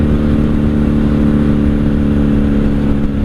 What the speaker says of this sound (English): Comfy little bike. Sounds good, runs good.